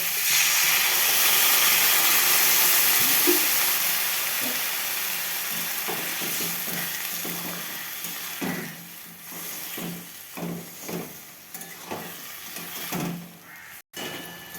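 Water poured onto fried spice paste for a mixed vegetable curry gives a loud, hissing burst of steam and sizzle that slowly fades, followed by scattered scrapes and clinks in the pan.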